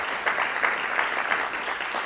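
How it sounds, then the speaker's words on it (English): Sustained applause from an awards gala audience in Baltimore, a dense, even wash of clapping with small swells, steady and fairly close throughout, no voices over it. "I want to applaud him for that as well, for helping to head that up."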